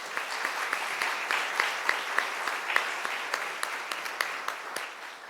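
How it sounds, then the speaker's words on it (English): Audience applause at a city commission swearing-in ceremony, steady and moderately loud with scattered sharper claps rising out of the dense patter throughout. "Can we give them a round of applause?"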